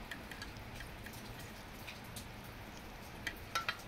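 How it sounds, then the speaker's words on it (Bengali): Rain falls outside after a long night of heavy rain, a faint, even patter with a few sharper drips landing near the end and no voices. "আমাদের এখানে তো কাল রাত থেকে খুবই বৃষ্টি হচ্ছে"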